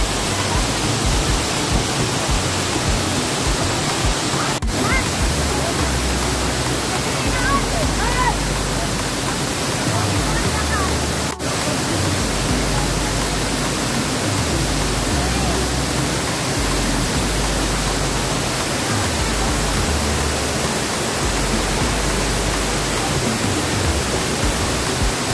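Mimbalot Falls in Buruun, Iligan City, pours with a loud, constant roar of rushing water that fills the whole stretch without pause.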